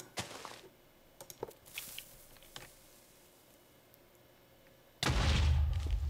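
A Minecraft explosion erupts as a sudden loud, booming burst near the end, following a few faint clicks and taps over quiet background.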